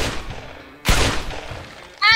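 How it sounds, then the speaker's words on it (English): Gunshot in the Roblox game Dingus: one sharp, loud crack partway through, trailing off into game ambience, followed by a brief bright electronic sound near the end. "I shot the wrong guy."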